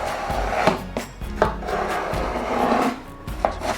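Knife cutting eggplant into cubes on a wooden board, a steady series of close thuds and scraping slices with uneven rhythm, fairly loud, with no talking.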